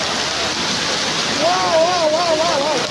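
A steady, dense roar of hail pelting down, loud and continuous throughout, with a person talking over it in the second half.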